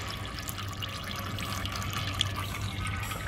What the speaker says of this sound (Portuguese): Você solta o óleo aí.